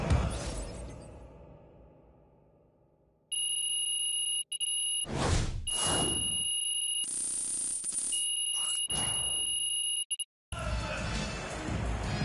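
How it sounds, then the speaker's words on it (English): A sustained electronic buzzer sounds in an NBA 2K26 basketball video game to mark the end of the game, loud and broken into several long blasts with short gaps between them, following a stretch of fading crowd noise. "as the final buzzer sounds, it's going to be Nanterre Elite walking out of here with a nice road"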